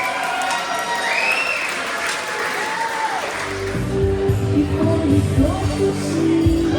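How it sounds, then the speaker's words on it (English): Applause from wedding reception guests as a groom dances with his mother, a steady wash of clapping that is joined midway by loud dance music with a thumping beat. "A round of applause for Dominic dancing with his mother, Linda Lutz."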